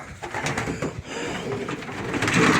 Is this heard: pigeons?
yes